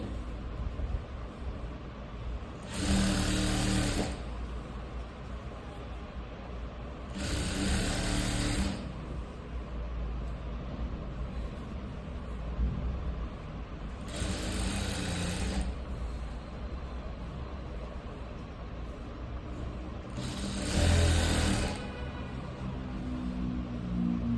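A sewing machine stitching a fall onto a saree runs in four separate bursts of steady whirring, each a second or so long, with quieter pauses between them and no speech.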